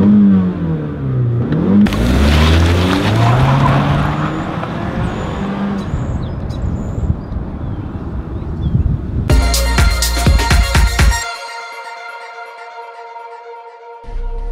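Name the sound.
car engine revving up quickly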